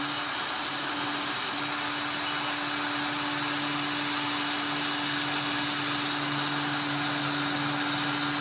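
A power sanding tool runs continuously on a ring with 800 grit paper, a steady loud whirring drone with a constant hum and no pauses, close by and with no talking.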